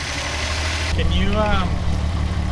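A Volkswagen Mark III with a VR6 engine idles steadily at the roadside while a fuel-system cleaner is being run through it, a low continuous hum under a person talking nearby.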